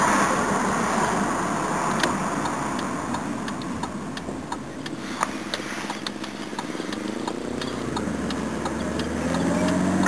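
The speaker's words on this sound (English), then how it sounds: "A little bit of a tick when I took my foot off the gas then." Inside a Toyota Cressida on the move, the engine drones steadily while faint, regular ticks sound after the driver lifts off the throttle, the tone dropping low near the end.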